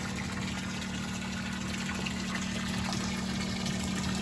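A water pump draws lake water up through a pipe to an upstairs tank at an off-grid cabin, giving a steady, unbroken mechanical hum with a wash of flowing water that holds even and fairly close throughout.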